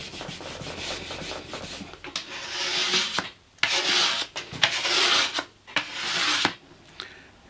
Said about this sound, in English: I don't know how successful it was scraping off the grain filler